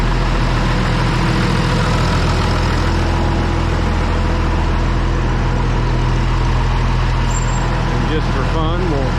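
A Minneapolis Moline 955 tractor's diesel engine idles loudly and steadily inside a barn with a deep, even throb throughout, and a brief squeaky noise near the end.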